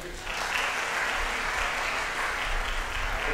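An audience gives sustained, even applause for student performers after a junior high percussion band concert, a steady wash of many hands clapping throughout with faint talk beneath.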